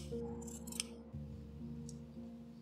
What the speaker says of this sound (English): Cut a tiny triangle from each corner to avoid the bulkiness.